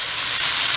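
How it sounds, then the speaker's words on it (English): Rib tips fry in a pot with annatto oil, giving a loud, steady, close sizzle with broad hiss and no break. "Already got the frying action."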